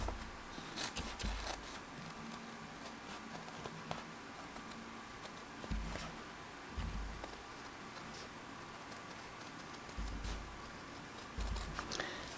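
A fabric patch being cut out by hand, with faint, scattered snipping and rustling noises at close range over a low background hum.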